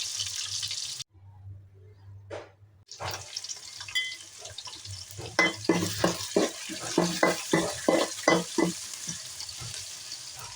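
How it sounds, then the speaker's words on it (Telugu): Okra curry base of onions sizzling and frying in a pan, with repeated rhythmic scrapes and stirs growing louder toward the end, after a brief quiet pause near the start. "బాగా వేగనివ్వాలి"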